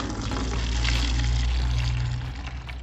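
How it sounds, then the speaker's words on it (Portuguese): Water pours out steadily during Honda Hornet motorcycle maintenance, a continuous loud rushing splash with no pauses, close by. "Vamos ver como é que vai sair essa água aqui."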